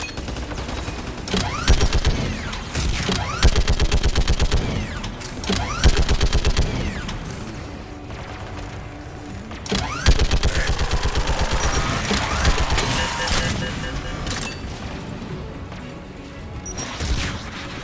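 Rapid bursts of Geth turret fire in the Mass Effect 3 video game, with repeated volleys and crashing impacts over a dense battle din lasting throughout, with brief lulls between bursts.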